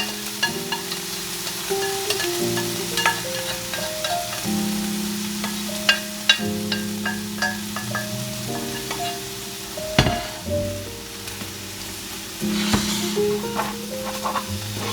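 Vegetables sizzle in a pan in leftover meat juices, a steady frying hiss broken by occasional stirring scrapes, with a melodic tune playing along throughout.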